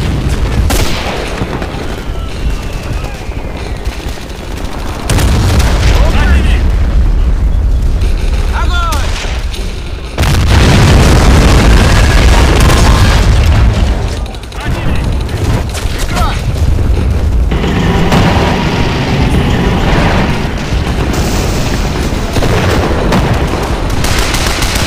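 Tank battle in the WWII strategy game Men of War: Barbarossa, with dense booms, gunfire and explosions rolling continuously and loudly throughout, a brief lull near the middle before heavy blasts resume.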